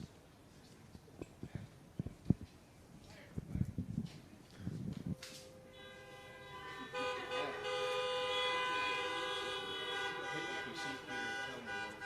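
At an outdoor Veterans Day event, a crowd of car horns starts honking together and keeps up a sustained, overlapping blare for several seconds, following quieter thumps, footsteps and scattered sounds, with a voice heard nearby.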